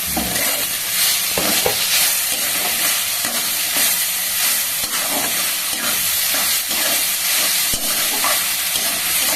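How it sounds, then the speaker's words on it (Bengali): Gobindobhog rice frying in ghee for bottle gourd payesh hisses and sizzles loudly and steadily in a pan, with a spoon scraping and stirring in irregular strokes, close up and with no talk. "চালটা দিয়ে হ্যাঁ একটু ভালো করে ভাজছি"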